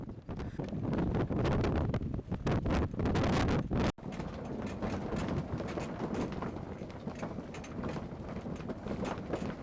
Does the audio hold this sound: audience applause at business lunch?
no